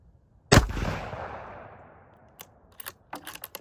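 A single sharp rifle shot from a Bergara B14 firing 165 grain loads, loud and close with a long decaying echo, followed by a few faint clicks and handling knocks.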